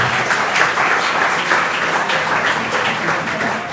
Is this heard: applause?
yes